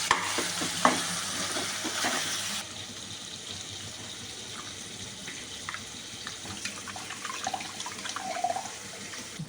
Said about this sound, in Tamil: வெங்காய தக்காளி இந்த வதக்குறோம்ல